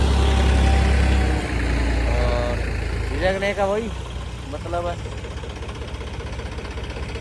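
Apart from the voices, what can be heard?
motor grader engine running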